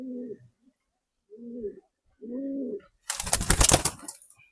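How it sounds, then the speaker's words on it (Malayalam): Rampuri line pigeon cooing in three separate low, rounded bursts, close and clear, followed by a sudden loud flurry of wing flapping and movement at the end. "ഇത് നമ്മുടെ ഒരു റാംപൂരി ലൈൻ ബേർഡാണ് കേട്ടോ നല്ല ക്വാളിറ്റി ഉള്ള ബേർഡാണ്"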